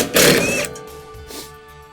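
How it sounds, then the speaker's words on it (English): An impact wrench spins in reverse, backing bolts out of the deck plates on an 84-inch finish mower with one loud, brief whirring burst, then a quieter follow-up rattle as a bolt comes free. "we'll take our impact wrench, make sure it's running in reverse, and we'll take these bolts out"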